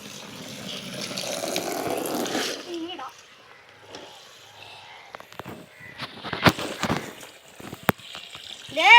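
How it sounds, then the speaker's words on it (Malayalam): Water is poured into a homemade fish tank for a couple of seconds, then stops; talking and a crow's caws follow. "ഇതിലേക്ക് നമുക്ക് വെള്ളം ഒഴിച്ചു കൊടുക്കാം"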